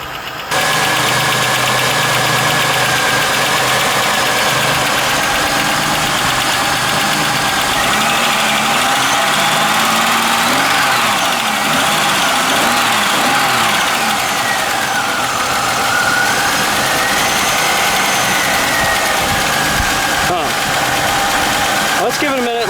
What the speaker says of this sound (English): Is that rod or is that lifter? Sounded like rod to me.